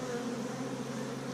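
Honey bees at a hive give a close, steady buzzing drone, a dense continuous hum with no talk over it.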